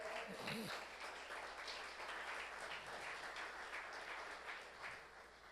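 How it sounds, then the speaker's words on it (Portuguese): A church congregation claps during a sermon, a sustained, even patter of many hands heard from a distance and fairly faint, with a low hum underneath and a brief vocal sound near the start. "bata palmas"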